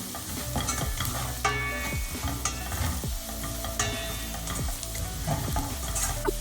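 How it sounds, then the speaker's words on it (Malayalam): Turmeric powder frying in a pan of crab curry masala sizzles steadily up close while a utensil stirs and scrapes against the pan with frequent clinks and knocks. "ഇതിലേക്ക് മഞ്ഞൾപ്പൊടി ചേർത്ത് കൊടുക്കാം. 1 ടീസ്പൂൺ മഞ്ഞൾപ്പൊടി ചേർത്ത് കൊടുക്കാം. ഇത് നന്നായിട്ടൊന്ന് വഴറ്റിയെടുക്കണം."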